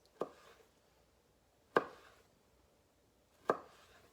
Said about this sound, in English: So now I'm going to cut this into matchsticks.